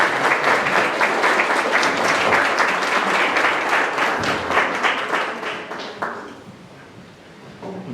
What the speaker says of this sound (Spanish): por favor un aplauso para el arquitecto